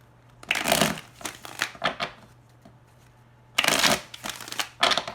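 Tarot cards being shuffled close up in two loud riffling bursts separated by a quieter pause with a few lighter card shuffles, no talk.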